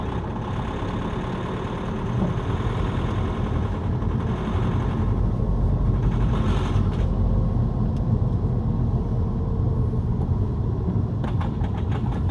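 A Mini Countryman with an engine fault runs roughly, its low, steady rumble holding close and continuous for about twelve seconds with no talk.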